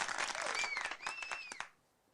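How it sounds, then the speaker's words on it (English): Studio audience applauding a guest on a talk show, a dense burst of clapping and cheering that swells briefly and cuts off after about a second and a half. "Round of applause for my man."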